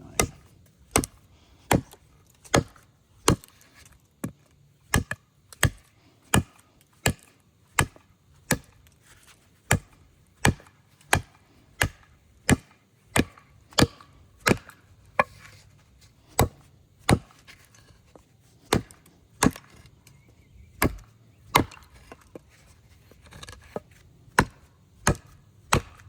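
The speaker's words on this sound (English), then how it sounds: "Let's go ahead and do some chopping." A knife chops wood in steady, evenly spaced sharp strikes, around forty crisp clean cracks over a quiet background with no talking.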